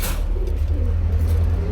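Pigeons coo close by in a soft, low, rolling run over a steady low background hum.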